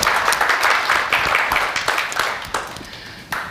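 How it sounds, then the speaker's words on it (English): A crowd applauds steadily, with dense clapping that gradually thins and fades out toward the end. "Let's give them a round of applause."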